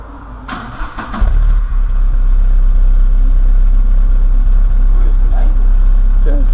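Car engine with no exhaust pipe cranks and fires, then settles into a loud, rough, booming idle with heavy low rumble; people talk over it at the start.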